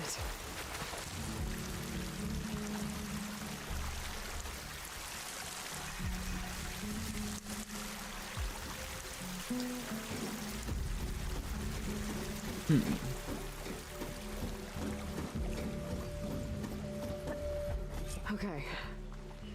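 Rushing water in Horizon Forbidden West, a steady broadband wash of flowing stream and spray running throughout, with game music tones and a voice talking over it.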